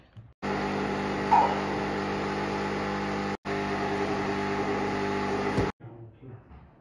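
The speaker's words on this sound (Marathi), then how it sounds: "त्या सगळ्याचं करून घेऊया आपण मिक्सर." A mixer grinder grinding ginger, garlic, coriander and mint whirs loudly and steadily in two bursts with a short pause between, then stops; faint sounds before and after.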